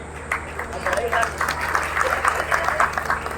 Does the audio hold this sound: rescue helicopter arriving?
no